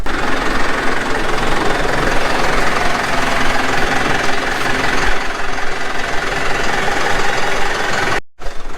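A tractor pulls a rotary hoe through an organic barley field, giving a steady, loud, continuous engine drone with rough mechanical rattle throughout and a brief dropout near the end.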